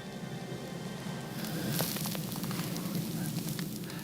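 Faint, fine crackling from nasal mucus freezing in the extreme Siberian cold, a scatter of tiny ticks and snaps over a soft, steady background hiss.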